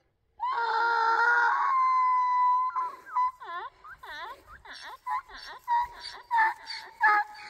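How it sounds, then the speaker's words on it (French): A donkey brays in the distance. It starts with a long, high sustained call, then breaks into a run of loud rhythmic hee-haw pulses, each rising and falling, with no talk over it. "Il y a un âne qui crie au loin."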